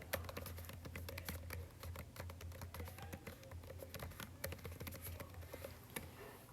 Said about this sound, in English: so I type that in and I hit return